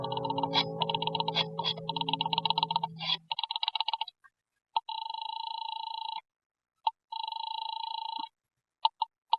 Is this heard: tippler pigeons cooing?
no